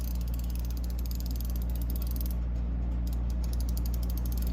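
An RBRT ratchet with a coarse tooth count, in the style of an old Craftsman ratchet, clicks steadily in a fast, even rattle close up against a constant low hum, with no voices.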